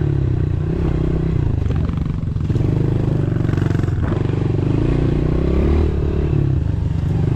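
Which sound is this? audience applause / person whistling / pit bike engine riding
pit bike engine riding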